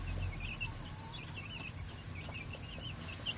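Chickens cluck softly in short, scattered calls over a low, steady background hum, fairly faint and at a middle distance.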